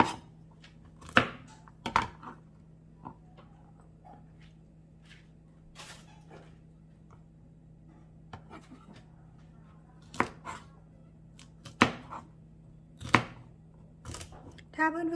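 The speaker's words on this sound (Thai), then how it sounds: "เราก็จะหั่นถั่วก่อนนะคะ" A knife chops long beans sharply on a cutting board in irregular bursts of single and double strikes, close and clear, over a low steady hum.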